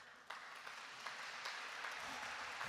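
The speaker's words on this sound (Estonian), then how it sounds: "Me võime juba enne filmi aplausi ära teha." Audience applause at a summer festival gathering, a dense, even wash of clapping that holds steady and slightly swells over a few seconds.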